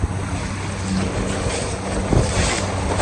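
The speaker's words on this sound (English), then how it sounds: "It got windy." Gusty wind buffets the microphone on open water during a fishing outing from a boat, a steady broadband roar with water movement beneath it, loud and continuous for the whole stretch.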